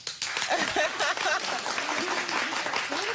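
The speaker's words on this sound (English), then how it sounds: "Hardly anybody clapped." A television talk show studio audience claps while a voice talks over it, giving steady, fairly close applause that carries on throughout under the speech.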